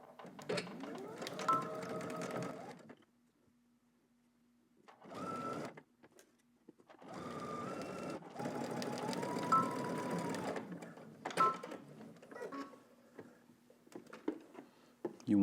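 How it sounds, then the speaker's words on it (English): A sewing machine stitches polo shirt shoulder seams with backstitching, running in several whirring bursts separated by short pauses, close and clear. "We're going to stitch down our shoulders using 5/8 of an inch seam allowance."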